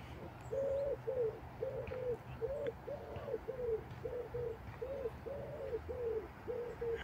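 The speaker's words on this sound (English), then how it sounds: "There's a wood pigeon right in front of me here." A wood pigeon coos repeatedly outdoors in the UK, about a dozen soft hooting notes in a steady rhythm at moderate distance over faint ambient noise, with no talk during the calls.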